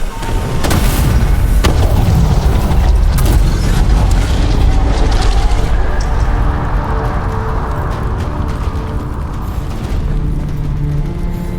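A huge, sustained explosion from Dragon Age: The Veilguard as a blight source is destroyed, with a rumbling roar that fills the whole stretch, sharp blasts early on and a slow, dense fade.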